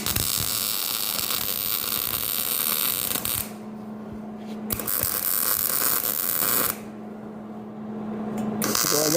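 MIG welding on steel plates for a log splitter attachment, a loud continuous crackling buzz that runs for the whole stretch, with two short pauses between beads while a low hum carries on underneath.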